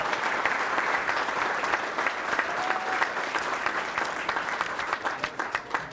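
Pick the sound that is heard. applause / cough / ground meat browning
applause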